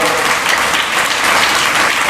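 Audience at a religious discourse camp gives strong, continuous applause, a dense wash of many hands clapping together at steady volume from start to finish.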